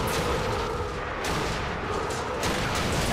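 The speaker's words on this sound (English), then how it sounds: "Shots are fired!" Gunfire in the Bioshock Infinite video game, a dense, continuous barrage of loud shots and booming impacts with several sharper bursts standing out, no talking.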